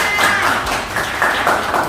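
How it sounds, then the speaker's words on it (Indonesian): A classroom of students gives a short burst of scattered clapping, steady and fairly close, with some talking mixed in. "tepuk tangan."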